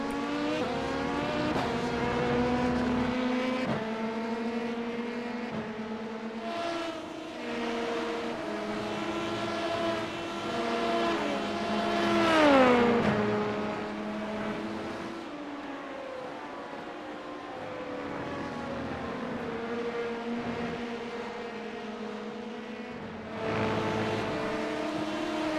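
In the iRacing sim, LMP2 and GTP prototype race car engines whine in sustained harmonic tones. The pitch climbs and drops through gear shifts, with steady engine noise throughout.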